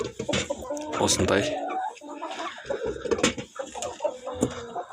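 Chickens cluck in a coop with fresh hay, the hens laying eggs of around 52 grams. Several short clucks and calls come close by, and a person speaks briefly.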